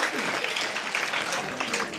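Audience applause at a North Karnataka comedy and mimicry stage show: a dense, steady wash of clapping that stays loud from start to finish, with no pauses.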